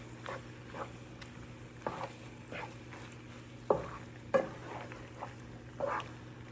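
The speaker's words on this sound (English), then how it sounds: "And just allow your butter to melt" Butter melting with onions and garlic flakes in a pan for mac and cheese, a soft steady sizzle with a low hum underneath, broken by several sharp clinks and scrapes of a utensil against the pan.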